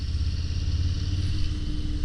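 A 2022 Low Rider S motorcycle engine grumbling steadily, a continuous deep throb with a slight clattery edge and no pauses, close and alone.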